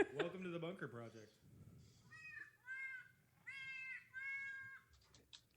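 Synthetic cat meows from a translator app play as four distinct, tonal mews after a burst of speech, each one loud, close and electronic-sounding.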